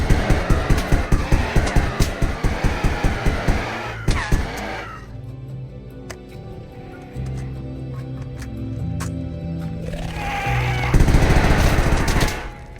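Rapid bursts of automatic gunfire from a Minecraft 1.12.2 weapon mod hammer out a fast, even rhythm, then pause amid mechanical clatter before another loud sustained burst.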